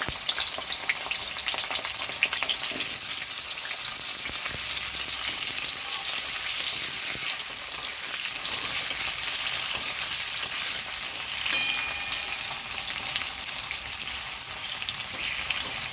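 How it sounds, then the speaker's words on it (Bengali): Pumpkin pieces sizzle and crackle steadily in hot oil, a continuous close frying hiss with occasional pops and stirring, and no voices. "তেল গরম হয়ে গেছে, আমি কুমড়োটা ভেজে তুলে নেব। এবার আগে কুমড়োটা দিচ্ছি।"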